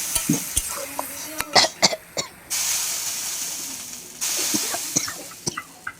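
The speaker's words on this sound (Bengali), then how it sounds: "এবার ওই তেলেই আমি জিরা, শুকনো লঙ্কা, তেজপাতা ফোড়ন দিচ্ছি।" Cumin, dried red chillies and bay leaves spit and crackle in hot oil left from frying cauliflower, with a steady sizzling hiss, close up, and sharp scraping knocks from a spoon stirring the pan.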